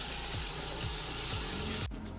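Rain-style hotel shower with good water pressure runs steadily, a broad, close hiss of spraying water that cuts off abruptly near the end, leaving a quieter dripping remainder.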